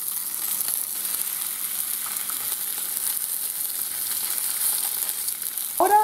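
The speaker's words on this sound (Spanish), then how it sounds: "Vamos a ponerlo en una sartén con un poquito de aceite de oliva y bien caliente." Bonito pieces fry in a pan of very hot olive oil, giving a steady, close hiss and crackle that runs throughout, with a faint clink near the end and no talking.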